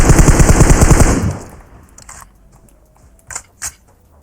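Automatic gunfire in PUBG Mobile, a loud rapid burst of shots that stops after about a second, followed by a quiet stretch and two brief sharp clicks.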